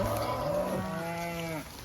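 Cattle in a grazing cow mob moo close and loud, one long drawn-out bellow sliding in pitch with another cow lowing under it, steady wind noise behind.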